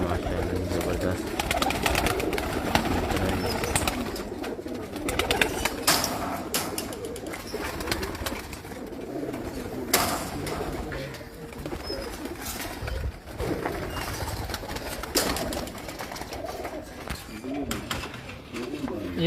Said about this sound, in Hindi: अभी हमारे पास 100 से ऊपर कबूतर लगे हुए हैं